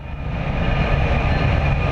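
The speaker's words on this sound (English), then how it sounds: "the train blazes by with only inches to spare" A train rushes past only inches away in a steady, loud, continuous rumble and roar with a faint high whine over it, and no voices.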